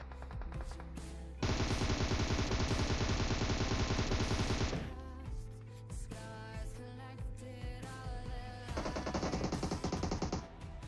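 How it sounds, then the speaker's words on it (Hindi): Video game gunfire: two long bursts of rapid automatic fire, loud and close, with scattered single shots in the lull between them. "जैसे ही मुझे लगा मैं नॉक कर दूंगा मैंने फायर कर दिया उस पर"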